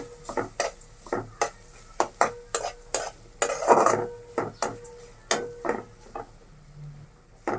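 A spatula scrapes and stirs coconut paste with onion in a pan in a steady series of clacks, with a soft sizzle of frying underneath.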